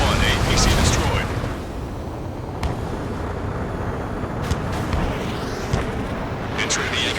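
An APC explodes during combat in Ace Combat 7, with deep rumbling booms and sharp blasts over continuous jet and battle noise, some bursts near and loud, others more distant.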